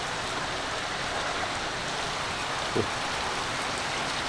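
A water feature at Alnwick Garden emptying and refilling gives a steady, close wash of pouring and splashing water, continuous and even throughout, with one brief thud and no voices.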